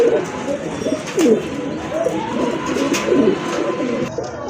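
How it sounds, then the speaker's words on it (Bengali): A pair of fancy Modena pigeons coo nearby in repeated rolling phrases, loud and close, with faint background clatter and no speech. "খুবই চমৎকার এক জোড়া মডার্না কবুতর ভাই"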